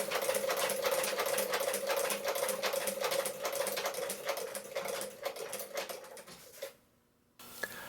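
A Singer 29-4 leather-stitching sewing machine runs in a fast, steady mechanical rattle with rapid even needle strokes for several seconds, then stops briefly before a faint restart.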